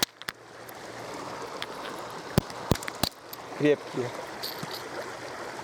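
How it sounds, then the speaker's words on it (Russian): A river stream flows over stones outdoors as a steady, moderately quiet rushing hiss, broken by a few sharp knocks and handling clicks, while someone speaks briefly. "Речка."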